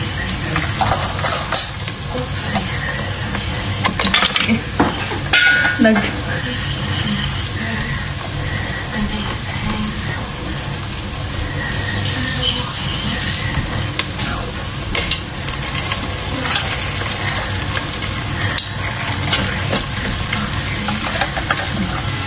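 Crabs frying in a pan, a loud continuous close sizzle with stirring scrapes and occasional clinks of utensils, lasting over twenty seconds with no voices.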